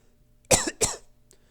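Two quick coughs close together, close and fairly sharp, followed by quiet.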